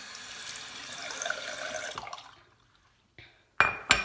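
Tap water running into a sink while a makeup brush is rinsed, a moderate steady splash for about two seconds that then stops, followed by a few brief clinks and handling noises.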